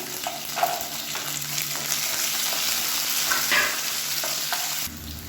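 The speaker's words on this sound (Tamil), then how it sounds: "வெங்காயம் பூண்டு நல்லா வதங்கிடுச்சு" Whole shallots and garlic cloves sautéing in a pan for an idli and dosa side dish, giving a continuous close sizzle with repeated stirring scrapes, then quieting near the end.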